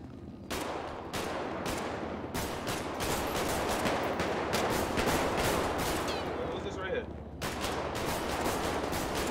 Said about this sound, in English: Shooting air, bro.